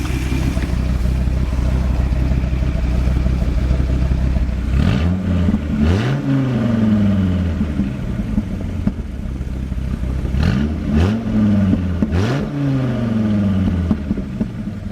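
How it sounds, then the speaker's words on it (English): Loud idle of a 2003 Dodge Viper SRT-10 V10 engine and exhaust, rumbling close by, broken by two pairs of quick throttle blips that rise and fall sharply. "let's go ahead and see how she sounds."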